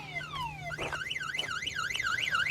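A car alarm sounds on a 1966 Ford Mustang, with rapid falling chirps giving way to a fast warbling siren that wails up and down, fairly close with no talk.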